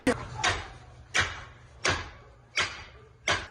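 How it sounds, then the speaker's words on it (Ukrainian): Police forcing a door open with a series of heavy, evenly spaced blows, five or six loud thuds and impacts roughly every 0.7 seconds against a steady low background hum. "Відгуку на прохання не отримують, тож ламають двері."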